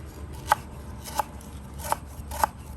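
Four sharp knife strikes on a cutting board, chopping vegetables into small pieces for pounding, evenly spaced about half a second apart, close and crisp over a low background hum.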